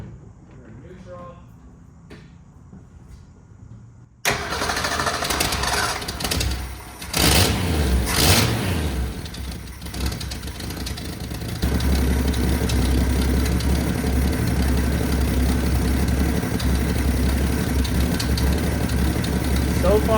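A 1962 Ford Ranchero inline-six cranks over and catches, then settles into a loud, steady idle. A big exhaust leak puts a raw, puffing edge on the exhaust note, with a rise in level partway through.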